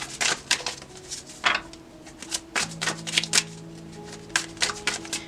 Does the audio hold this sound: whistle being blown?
no